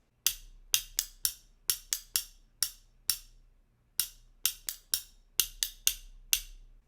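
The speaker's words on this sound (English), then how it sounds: "So we actually play the spoons on our knee or on our leg." Spoons played against the knee or leg make sharp, bright clicking strikes in a steady, syncopated rhythm of single and double hits, close and alone with no talking.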